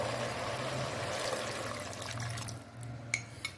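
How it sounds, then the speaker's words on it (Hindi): Water is poured into roasted, frying masala in a pan while cooking a moong dal mangochi curry, giving a steady close hiss and sizzle that eases off, then a couple of light clinks near the end. "यहाँ पे अब मैं इसमें करने लगी हूँ पानी ऐड।"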